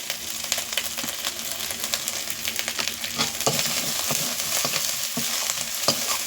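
A spice paste of turmeric, red chili and Kashmiri chili powder fries in a pan with a steady close sizzle, broken by frequent scraping stirs of a spatula; no one speaks.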